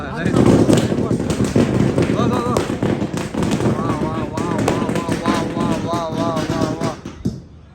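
Firecrackers burst during Diwali celebrations, a rapid string of sharp cracks and pops close by, loud and ongoing, with people talking and calling out over the bangs.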